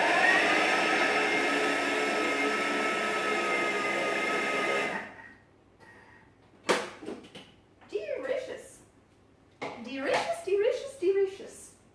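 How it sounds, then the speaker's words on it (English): A blender blitzes almonds for a raspberry paste, running as a loud, steady whir for about five seconds before cutting out, then a voice speaks briefly. "I'm going to blitz this up and then add it to my raspberry paste"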